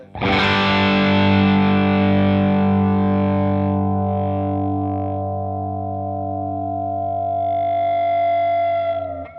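A La Montparnasse electric guitar rings out through heavy distortion as one sustained, loud chord that slowly decays with faint feedback-like overtones near the end, heard alone without talking.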